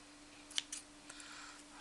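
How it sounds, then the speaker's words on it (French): A couple of quick, crisp snips of scissors cutting loose threads, close and quiet, heard alone against faint background hiss. "je vais couper ces fils qui m'énervent"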